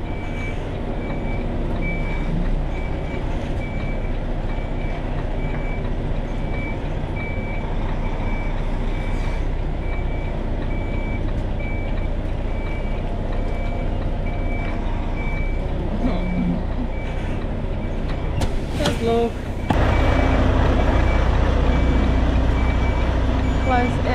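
A lorry's reversing beeper sounds steadily throughout while the truck blind-reverses into a tight spot, its engine rumbling underneath and growing louder near the end.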